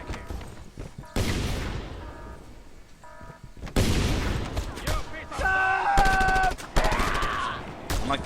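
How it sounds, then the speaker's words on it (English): Gunfire bursts in Just Cause 2, several loud sharp blasts spaced a second or two apart with ringing tails and a metallic whine in between, amid game action. "Who is trying to shotgun me back here?"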